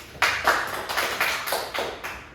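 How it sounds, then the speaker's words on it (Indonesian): A classroom of students claps for a classmate after a microteaching presentation, a short run of spaced, fairly close hand claps that fades after about two seconds. "Silakan kasih tepuk tangan dulu ke Sugi"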